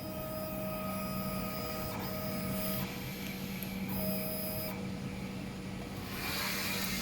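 A DTF printer runs a nozzle check, a steady mechanical whir with faint tonal whines, its print head carriage shifting pitch as it passes back and forth, heard close with no talk.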